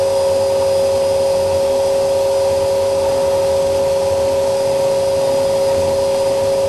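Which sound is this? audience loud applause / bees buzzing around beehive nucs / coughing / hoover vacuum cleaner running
hoover vacuum cleaner running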